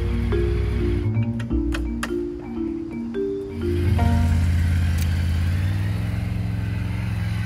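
A big Harley motorcycle, of the kind used by motor police officers, rolling through low-speed figure-eight U-turns, its engine burbling and shifting pitch with light throttle blips, close by, with some ticking and clicks, no talk.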